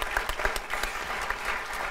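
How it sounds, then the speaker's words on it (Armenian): A studio audience at an Armenian TV music quiz show claps loudly and steadily, a dense, close burst of applause filling the whole moment with no talk over it. "Ծափահարություններ մեր անկախ ու ազատ անվախ երկրին։"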